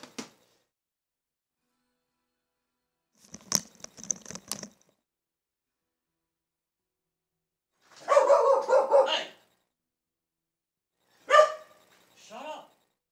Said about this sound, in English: I had somebody at the door and the dog is going crazy